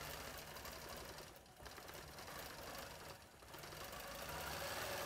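Sewing machine stitching a C-curl feather design along a quilted border, a steady fast mechanical whir running continuously with two brief dips in speed, moderately quiet and alone.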